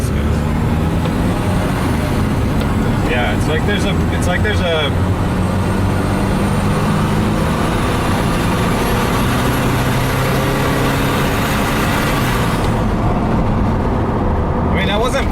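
Rebuilt BMW sports car engine revving under slow, partial-throttle acceleration with a suspected boost leak, a loud continuous drone with shifting pitch and hissing bursts, heard up close beneath people talking.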